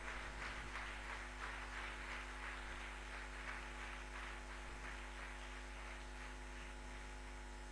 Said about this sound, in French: J'aimerais qu'on applaudisse pour les jeunes qui ont fait une bonne intervention.